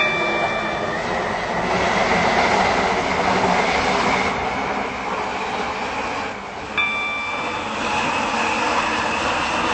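Steady rumble and rail noise of a Class 730 train running between Newry and James Street in the Roblox game SCR, continuous and close with a brief dip and squeal partway, alone without talk.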